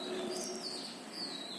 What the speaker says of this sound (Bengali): তার ভিতরে যে পাখিরা ডাকাডাকি করে শোনেন।